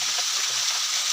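Flowing water from a small hidden waterfall, a steady broadband rush that stays even and continuous throughout the short stretch, with no voices over it.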